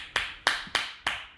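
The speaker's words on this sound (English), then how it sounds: "And give yourself a clap" Four sharp, evenly spaced hand claps after a breathing and stretching exercise session for lung conditions, close and crisp, each with a short decaying tail and no talking.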